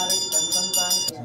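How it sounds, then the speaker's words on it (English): Prayer bells in a busy Kathmandu household, several bright metallic rings with a shimmering ringing tone, struck in a steady rhythm of repeated strikes, close and fairly loud. "The sound of prayer bells rings through the air."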